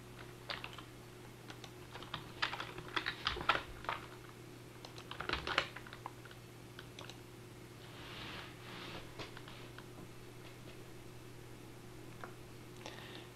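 Computer keyboard typing in a quiet room, quick bursts of soft key clicks grouped in short runs with pauses between, faint and close, over a low steady hum.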